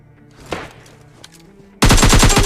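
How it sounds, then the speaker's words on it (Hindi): Close-range AKM gunfire in the mobile shooter PUBG Mobile Lite bursts out suddenly after quiet in-game ambience with footsteps, a loud rapid automatic stream of shots near the end. "उसको मैं यहाँ पास से AKM से मार देता हूँ"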